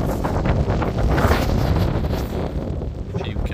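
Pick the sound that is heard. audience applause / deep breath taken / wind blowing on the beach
wind blowing on the beach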